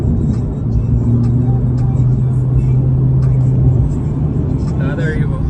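A Mitsubishi Evo drives past at a weekly car meet, its engine rumbling steadily under nearby traffic noise while people talk throughout.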